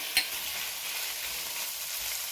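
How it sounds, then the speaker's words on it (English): Thin beef strips fry in a pan with a dense, constant sizzle heard close. One sharp clack near the start comes as the meat is stirred, and nobody speaks. "we've still got the frying pan on, so I'm going to go ahead now and add the meat"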